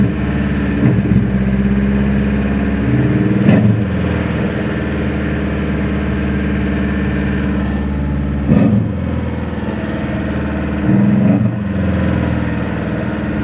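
Subaru engine after an oil change holds a steady, loud high idle and won't settle down, with a few brief surges in revs rising above the continuous drone.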